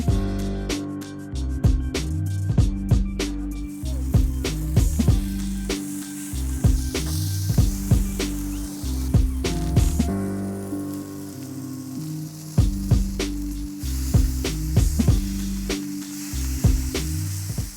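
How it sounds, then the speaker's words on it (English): Buns sizzle and crackle on the hot grill of a portable camping BBQ, a steady frying hiss with occasional scraping and clicks, close and continuous throughout. "So we'll get started by toasting our buns"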